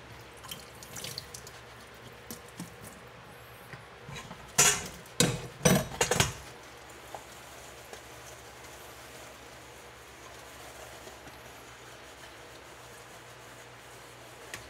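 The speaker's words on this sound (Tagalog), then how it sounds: "Hugas muna tayo." Running tap water splashes in a kitchen sink during washing, a cluster of loud splashing bursts midway through, with faint dripping and background noise before and after.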